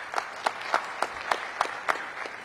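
At a Safe Summer Summit, hands clap in a slow, even rhythm, with about eight distinct claps at regular intervals. The claps are close and moderately loud but sound sparse rather than like a full crowd.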